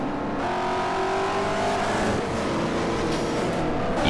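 A BMW E46 with all-wheel drive and a 6-speed gearbox races in Forza Motorsport 4, its engine revving loud and close with climbing, shifting harmonic pitch, continuous with no talk.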